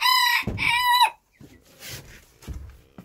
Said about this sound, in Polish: Tutaj kogucik sobie chodzi